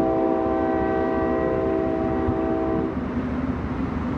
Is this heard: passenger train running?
yes